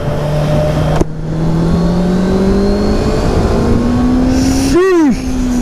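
Honda CBR650R sport motorcycle engine pulling steadily as it accelerates under the rider, then a brief sharp rev flare near the end before settling back to a steady drone, loud and close throughout with wind rush.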